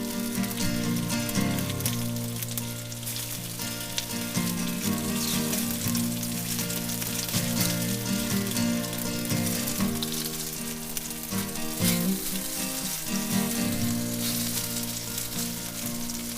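Perogies fry in olive oil in a pan, giving a continuous crackling sizzle that runs the full length alongside tonal background music.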